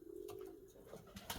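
Pigeons coo softly in a short, low burst, a brief rounded call followed by faint rustling and light wing or body movement nearby.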